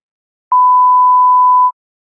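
A single censor bleep, a steady pure tone held just over a second, loud and alone against silence.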